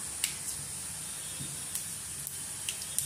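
Whole spices, cinnamon, cloves, cardamom, mustard seeds and cumin, sizzle in hot oil with a steady high hiss broken by sharp pops and crackles.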